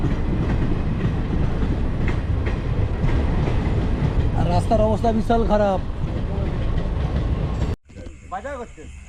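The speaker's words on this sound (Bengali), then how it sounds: "এই সামনে যাচ্ছে ট্রেন দেখো" A train rumbles and clatters past on the railway line beside a crowded vegetable market in Panskura. Voices talk over it before the sound cuts off abruptly near the end.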